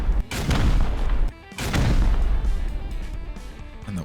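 Rocket blasts hitting turrets in the survival game Rust, two heavy booming explosions in quick succession, each followed by a rumbling crackle that fades out, close and loud with no speech.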